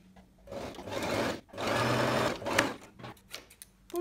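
A sewing machine stitching a French seam on fabric, running in sustained whirring bursts with brief stops between them, close and fairly loud with no talking.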